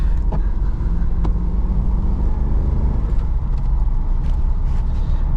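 Manual V8 HSV VR GTS driving in the rain, with a steady low engine drone and road rumble filling the cabin, a few faint clicks and splashes on top, and no talk.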